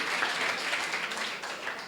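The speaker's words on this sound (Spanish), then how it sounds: "un aplauso porque Él se nos revela en nuestras vidas" Church congregation applauding during a sermon, a dense, even wash of clapping from a crowd held at a steady moderate level for the whole stretch, with no voices standing out.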